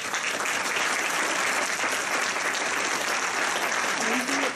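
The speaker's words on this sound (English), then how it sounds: "Give yourselves a round of applause." A high school graduating class applauds at a commencement ceremony, a broad, continuous wash of clapping filling the hall from start to finish, with faint crowd voices mixed in.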